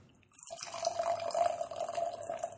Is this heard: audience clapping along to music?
no